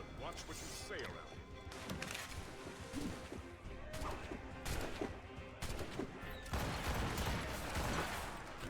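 Ship cannon fire in Assassin's Creed Rogue, a string of booming blasts and crashing impacts at uneven intervals, loud and close, with someone speaking over the barrage.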